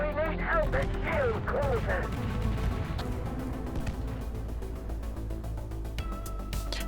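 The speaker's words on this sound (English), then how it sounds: "Let's watch the explosion." A space station explodes in the space game SpaceBourne 2 as a loud, continuous low rumble with crackling bursts. A voice talks over the opening seconds.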